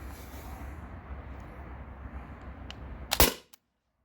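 Modified T4E HDR50 launcher firing a steel ball, a single sharp crack near the end of a quiet room hum, followed by a brief tail and then silence.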